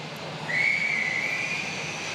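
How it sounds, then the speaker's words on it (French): A sharp, sustained whistle blast rings out over a steady background hum at a trades skills competition, holding for about a second before fading. "Mais le coup de sifflet vient de retentir."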